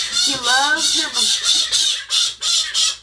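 A bird lets out a rapid series of loud, harsh squawks, about ten bursts in quick succession, close by and alone.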